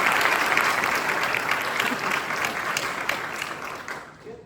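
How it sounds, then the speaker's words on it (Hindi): A theatre audience at an inter-IIT cultural meet stage play gives a new actress a loud burst of sustained clapping. The clapping stays strong, then thins and fades away at the end. "तो एक बार इनके लिए जोरदार तालियां।"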